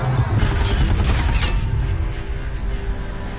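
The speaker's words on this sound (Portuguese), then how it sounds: "Cuidado, explosão!" An explosion in the video game Call of Duty: Infinite Warfare bursts loudly with a heavy low rumble and crackling debris, then fades into a steady mechanical hum.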